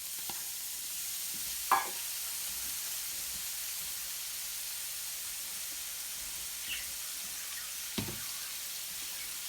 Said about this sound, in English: we're going to let this saute for a couple of minutes